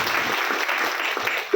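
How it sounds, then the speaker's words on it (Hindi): A brief burst of audience applause at an RCM business gathering, dense and even, lasting only a moment. "जोरदार ताली से"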